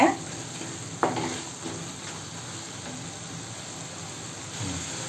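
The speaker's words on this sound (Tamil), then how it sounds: "அடுப்பை வந்து மீடியம் ஃப்ளேமில் வச்சுக்கின்னு கைவிடாமல் இது போல் கலந்து விட்டுட்டே இருங்க" Mint chutney ingredients fry in a pan over a medium flame with a soft sizzle, punctuated by a couple of sharp scrapes and knocks of a spoon stirring against the pan, then a steady quieter frying hiss.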